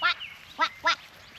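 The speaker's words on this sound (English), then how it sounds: "The little ducks." Little ducks quack three times in short, harmonic bursts, fairly close, evenly spaced with quiet outdoor background between calls.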